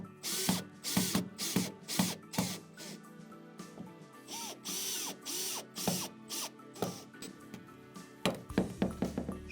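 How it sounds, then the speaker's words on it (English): Bolts driven in with a hand ratchet to fix toilet brackets: repeated bursts of quick clicking pawl strokes in a steady rhythm, close and clear, with no voices. "Then I can place the brackets directly on top and drive in the bolts."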